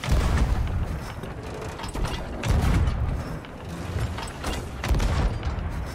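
Heavy booming blasts of ship cannon fire in the video game Sea of Thieves roll in repeated waves, dense and rumbling, with mechanical clanking layered throughout.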